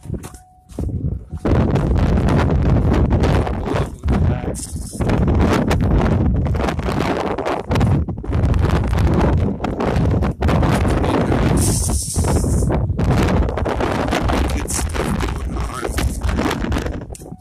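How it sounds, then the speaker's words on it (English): Strong wind buffets the microphone on Loveland Pass, a mountain pass where people are snowboarding, as a loud, continuous gusting roar with brief lulls and renewed surges. "it is insanely windy"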